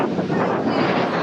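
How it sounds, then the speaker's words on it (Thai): Strong wind over the Red Sea at Jeddah roars and buffets steadily across the microphone, with a dull rushing noise and no voices. "โอ้แต่ลมแรงมากเลย"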